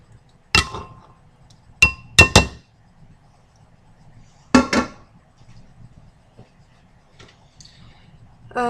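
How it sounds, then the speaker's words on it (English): Rinsed black beans are poured into a bowl: a few sharp clattering clinks in short bursts, separated by near silence, with a faint low hum underneath. "And then I will pour into the bowl."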